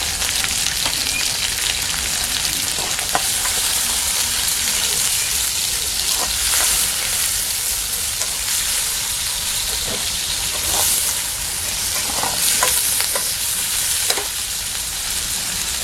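Curry leaves and small shallots sautéing with salt in a pan give a loud, dense, continuous sizzle, with frequent spatula scrapes and stirring rustles throughout.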